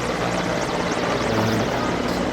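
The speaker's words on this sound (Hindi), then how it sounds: "और इन्हीं के ऊपर आ गए हैं MI-16 हेलीकॉप्टर।" MI-16 helicopter flying overhead at a Republic Day parade near India Gate, a steady loud rotor and engine roar held throughout with no pauses.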